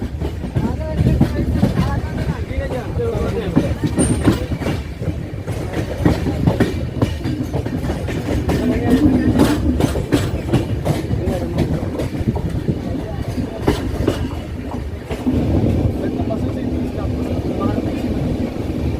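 The 12336 Bhagalpur SF Express rumbles along the line toward Kasara Ghat, heard inside a sleeper coach, with steady loud rolling noise and rhythmic wheel clicks, while voices talk nearby over it.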